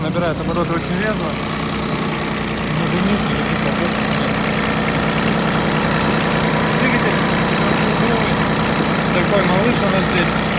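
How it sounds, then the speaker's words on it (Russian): Compact Kubota Aste A14 Japanese mini tractor engine running steadily and close, with a dense, continuous mid-low drone that picks up a little as it revs, and a voice talking over it. "Ну, мы видим, что трактор набирает обороты очень резво."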